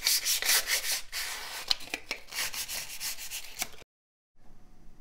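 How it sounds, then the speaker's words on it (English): Sandpaper rubbed by hand over dried wood filler on a baseboard miter joint, a close, steady scratchy rasping in quick repeated strokes for several seconds, then stopping abruptly into a short silence before faint room sound returns. "I'm just gonna hit it with a little bit of sandpaper and then paint it"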